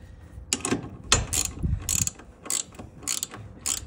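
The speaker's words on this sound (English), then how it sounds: "the final piece is just to tighten the locking nut" A locking nut on a Starlink dish mount on a metal roof being tightened, giving a series of short ratcheting, metallic clicks in bursts, close up.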